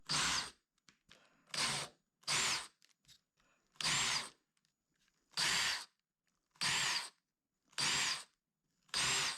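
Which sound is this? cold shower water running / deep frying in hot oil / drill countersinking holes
drill countersinking holes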